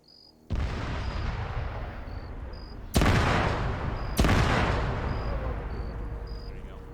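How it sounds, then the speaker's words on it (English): Loud explosions from thermite set off on gun trucks in a military video game: a sustained roaring blast begins early, followed by two more sharp booms that each spike then rumble on, with faint radio-style voices in the background. "It ignited fuel. That was just two. Those explosions were us. We thermited those gun trucks over."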